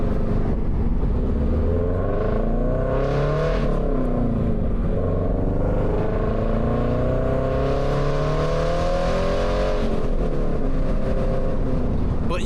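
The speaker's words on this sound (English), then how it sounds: "How crazy it is to hear it very loud when you give it gas." A car fitted with an aftermarket exhaust revs and accelerates hard, its loud deep rumble rising and falling through gear changes, heard steadily up close with no talking.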